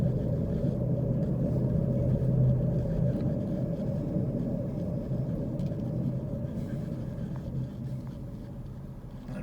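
A car drives through the tourist town of Pigeon Forge, Tennessee, in the Smoky Mountains, near the old mill district, with a steady low engine and road rumble that stays loud and even throughout, no voices.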